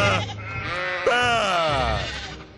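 A cartoon sheep bleats loudly in a Skylanders Swap Force game cutscene, one long wavering, quavering cry close up and alone.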